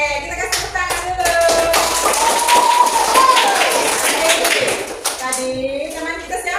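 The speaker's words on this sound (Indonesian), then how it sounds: "Oke, kita kasih tepuk tangan dulu." Classroom applause with hands clapping in a rapid, steady patter near the listener, mixed with children's voices talking and calling out over it.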